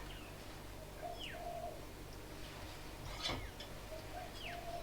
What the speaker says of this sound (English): sounds that bird is called limokon